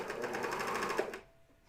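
A coverstitch sewing machine stitches a pajama top in a quick, rapid run of needle strokes, then stops abruptly, leaving near silence.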